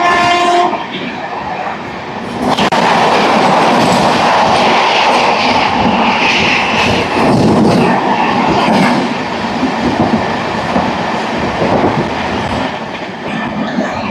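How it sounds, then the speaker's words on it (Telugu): A train bound from Nanded to Dharmavaram rolls past at close range, running three hours late. It makes a loud, sustained rumble with clattering wheels and a horn blast near the start. "ఇప్పుడు క్రాస్ చేసిన ట్రైన్ వచ్చేసరికి నాందేడ్ నుంచి ధర్మవరం వరకు వెళ్తుంది"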